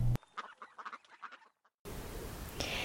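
Farmed sea ducks honk in a quick run of nasal calls lasting about a second and a half, moderately near. A short gap of silence follows, then a steady outdoor hiss.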